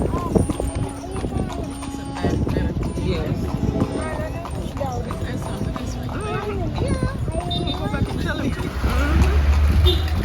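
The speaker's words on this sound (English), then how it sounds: "Horse-drawn carts are still a major mode of transportation here." Horse-drawn cart in Egypt clip-clopping steadily at close range, the hoof beats running throughout amid street bustle, with people talking over it.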